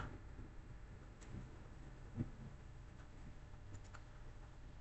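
A single key press on a computer keyboard during a network simulator session, a faint click standing out around the middle against a quiet room hiss with a few other soft taps.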